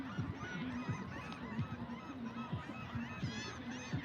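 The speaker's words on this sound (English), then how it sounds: "focus on the sound of the seagulls" Seagulls call repeatedly during an outdoor Earth Day walking meditation, a flock of sharp, honking cries overlapping at moderate distance.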